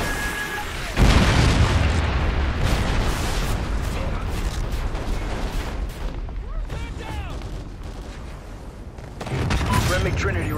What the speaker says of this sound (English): Friendly KEM strike incoming.